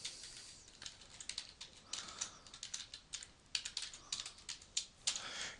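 Quiet, uneven keystrokes on a computer keyboard, a steady run of light clicks and taps with no voices over them.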